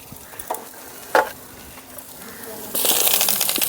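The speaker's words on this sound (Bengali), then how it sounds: "এই পর্যায়ে দিয়ে দেবো কেটে রাখা বেগুন।" Cut eggplant is tipped into a pan of spiced potato for a tomato, potato and eggplant curry. After a few soft knocks, a loud, close burst of hissing sizzle bursts up and holds steady.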